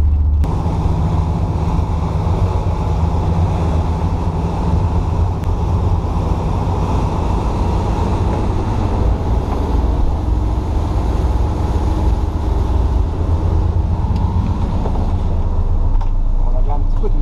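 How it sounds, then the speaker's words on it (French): Twin boat engines at 1500 rpm each, cruising at about 6.5 to 7 knots in a light sea, a steady low drone with wind rushing across the microphone throughout. "j'ai mis 1500 tours sur chaque moteur et on fait un petit 6 nœuds 5, 7 nœuds"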